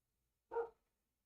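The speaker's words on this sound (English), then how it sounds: "the dog was barking and distracted me" A single short dog bark rings out alone against near silence.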